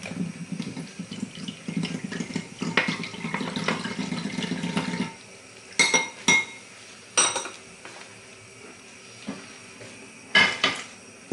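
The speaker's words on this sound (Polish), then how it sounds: "I budynię rozprowadzam i dolewam do jabłek." Pudding being stirred into apples in a dish for an apple cake: a steady wet churning for several seconds, then sharp clinks of a utensil against the dish spaced apart, fairly close and with no voices.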